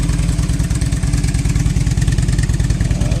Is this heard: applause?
no